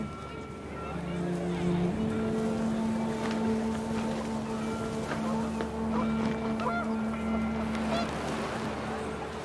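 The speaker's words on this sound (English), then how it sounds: "The wind picked up, and panicked geese appeared and quickly went." Panicked geese honk in a game scene from What Remains of Edith Finch, steady calls and honks layered over a continuous wind-like backdrop that runs through the whole stretch.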